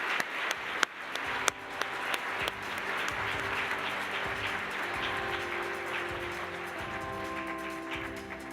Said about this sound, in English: Please join me in applauding Dr. Whitney Nash and Dr. Sarah Robertson.